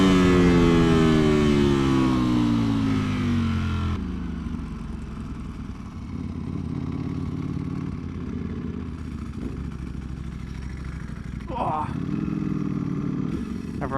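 A 2025 Ducati Panigale V4S being ridden, its engine droning with a falling pitch sweep at first, then a steadier hum with wind and road noise and a brief rev near the end.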